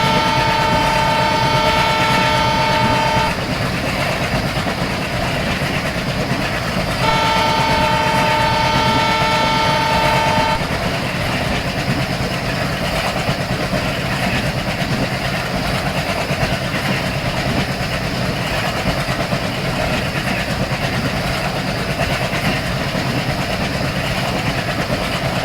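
A diesel locomotive in the Indian Railways Train Simulator game runs at high speed past stations, a loud steady engine and rail drone with two long horn blasts near the start.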